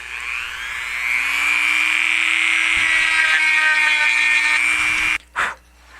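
A power sander works on wood for a coffee table, a steady high whine held for several seconds at close range before cutting off, followed by a short scraping burst.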